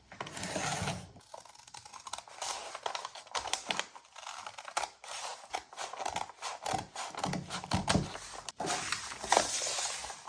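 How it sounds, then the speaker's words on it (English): Scissors cutting through a paper bag to trim off a section, close and crisp with repeated snipping, crunching and rustling of paper over about ten seconds. "so now I just need to cut this off"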